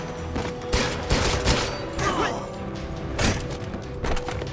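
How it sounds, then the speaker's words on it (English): A grenade goes off during a firefight in the shooter game 007 Legends, with loud blasts and bursts of gunfire in rapid succession, close and punchy throughout. "He threw a grenade."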